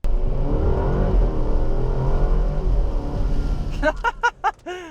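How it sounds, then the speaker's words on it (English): The turbocharged four-cylinder engine of an Alfa Romeo Stelvio drones and rumbles steadily, then revs up in several sharp, rising bursts near the end. "The 4-cylinder has a nice little growl to it."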